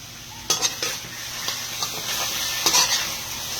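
Meat fries in its own rendered fat in a pan, a constant close sizzle with a few sharper utensil scrapes and taps against the pan as it is stirred.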